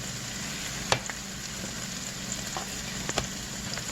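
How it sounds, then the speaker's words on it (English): Steady sizzling of food frying in a pan, a constant crackling hiss with a few sharper pops and clicks scattered throughout. "So it's starting to sizzle"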